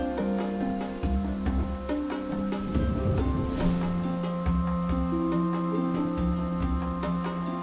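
Rain falls in the Feather video game, a gentle steady patter beneath sustained, shifting musical tones and a brief louder swell midway, with no voices.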